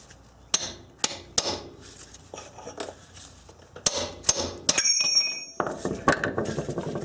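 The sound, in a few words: hammering a long chisel to remove stuck axle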